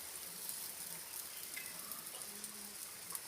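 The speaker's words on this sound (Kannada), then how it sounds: "ಮೀನಿಗೆಲ್ಲ ಜಾಗ ಮಾಡ್ಕೊಂಡು ನಾವು ಇಡಬೇಕು ತವ ಮೇಲೆ" Fish frying in oil on a tava griddle, village style: a steady, even hiss and crackle of sizzling oil runs throughout, fairly soft and with no voices.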